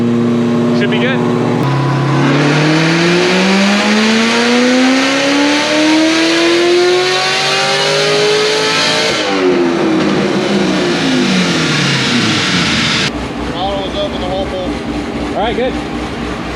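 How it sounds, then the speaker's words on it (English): Cammed Corvette Z06 engine on a full-throttle pull, loud close rumble rising steadily in pitch through a long rev, easing off, then a rough idle with lighter burbles. "we're just gonna do a pull real quick, make sure everything's cool"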